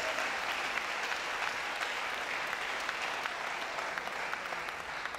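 Church congregation applauding during an anniversary service, a steady, continuous patter of many hands clapping at moderate volume from start to finish.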